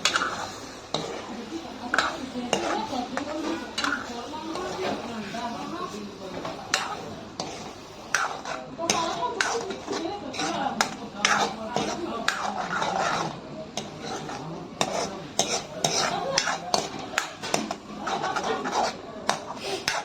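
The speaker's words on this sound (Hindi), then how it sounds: "टमाटर में अच्छी तरह से मिला देना है अंडा ला।" Beaten egg is stirred into tomato in a pan for an egg chutney, with a steady run of close scraping and clicking as the spoon works against the pan, alongside faint talk.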